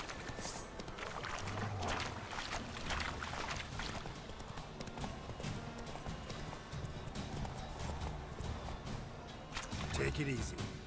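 A horse's hooves clip-clop steadily at a gallop in The Witcher 3, with occasional snorts and a whinny, while someone talks over the rhythmic hoofbeats throughout.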